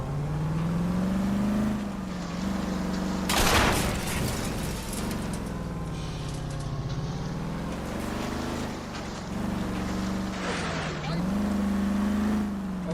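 Engine of a Lincoln Zephyr Touring car in the 1940s-set game LA Noire, a steady low drone that rises and falls in pitch as it revs, loud and close, with a brief burst of noise partway through and no talking.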